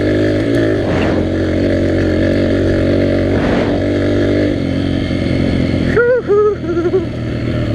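A Yamaha TTR125 dirt bike engine drones steadily and loudly on trails, swelling in a couple of rev surges before a series of sharp higher-pitched revs near the end.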